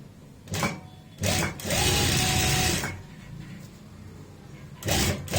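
A sewing machine stitches a pleat on a saree in several bursts of rapid mechanical whirring, separated by quieter gaps with faint background noise.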